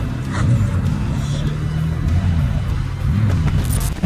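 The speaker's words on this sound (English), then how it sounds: "This driver tries performing a burnout with his car" A car's engine revs hard and steadily close by during an attempted burnout, a continuous low roaring drone that rises and dips slightly, with faint voices in the background.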